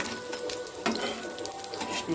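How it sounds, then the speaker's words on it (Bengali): Food sizzles as it fries in a pan, a soft, continuous crackle with small pops and a stir partway through, heard up close without talk. "দেখুন কত সুন্দর ভাজা হচ্ছে।"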